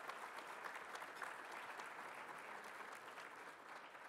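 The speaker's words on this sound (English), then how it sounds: "So how about a round of applause for our students and their sponsors?" An audience at a business luncheon on the opioid crisis applauds students and their sponsors, steady dense clapping filling the room at moderate volume with no talk over it.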